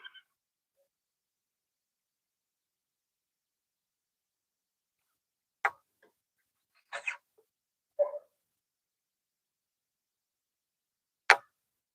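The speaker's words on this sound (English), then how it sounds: "I know exactly what dog is barking." A dog barks in the distance, a few short, sharp, isolated barks spaced apart against otherwise quiet surroundings.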